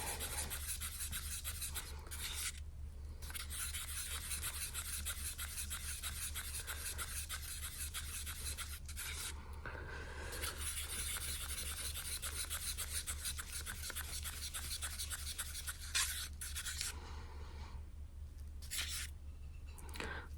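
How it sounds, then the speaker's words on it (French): White acrylic paint being mixed with PVA glue for acrylic pouring, a steady close scraping, rubbing stir against a container that runs continuously with brief pauses, no talking. "ici, je mélange ma peinture blanche avec la colle vinylique"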